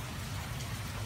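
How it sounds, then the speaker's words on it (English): Steady rain falls in a dense, even patter, close and constant across the whole moment, with no voices or other sounds on top. "Then why is it raining?"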